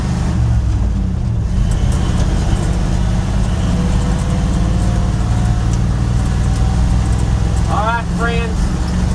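A 1948-1971 Dodge D100 pickup drives down a road at about 40 mph, a steady low engine drone and road rumble heard from inside the cab, continuous and fairly loud throughout.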